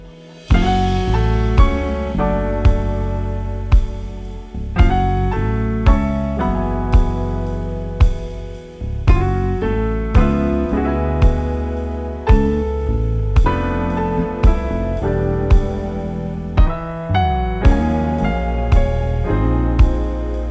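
A jazzy, reflective recorded song plays loud and full, with chords and notes pulsing in a steady repeating rhythm throughout and no talking over it.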